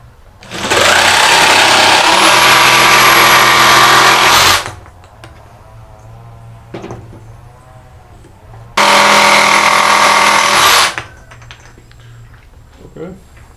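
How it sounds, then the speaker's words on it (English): A jigsaw cuts through a wooden cabinet door in two loud buzzing bursts of several seconds each, with quieter handling sounds and brief pauses between them. "I used to do this with the circle saw, so I can also do it with the jigsaw, of course."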